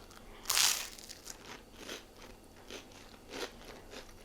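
A single sharp crunch of biting into crisp white toast, followed by quieter, irregular chewing crunches close to the mic.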